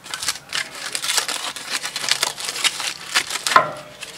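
Foil being unwrapped from the bones of a barbecued steak, a continuous close crinkling and crumpling with a sharper crackle near the end.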